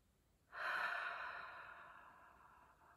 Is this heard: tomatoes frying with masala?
no